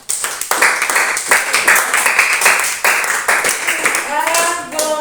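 A classroom of students bursts into brisk, loud clapping, a close and uneven patter with a few voices rising over it and a short laugh or call near the end.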